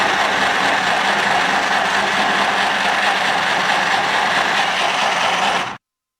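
A portable sewing machine stitches cloth with a loud, steady mechanical whir and rapid rattle that runs without a break, then cuts off sharply at the end.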